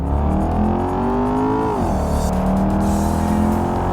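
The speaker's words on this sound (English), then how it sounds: "that exhaust noise is glorious" In the BeamNG driving game, a Procyon Avior luxury sedan's exhaust revs and drones continuously, the engine pitch rising then dipping and settling, loud and close with no talking.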